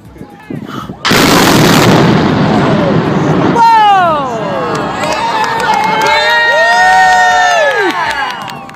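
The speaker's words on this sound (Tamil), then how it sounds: "இங்க பழைய பாலம் ஒண்ணுக்கு வெடி வச்சு சில வினாடிகள் அதை சுக்குநூறாக்கி இருக்காங்க." An old bridge blown apart with explosives: a sudden loud blast and roaring rumble lasting a few seconds, then a crowd cheering, whistling and shouting loudly near the microphone.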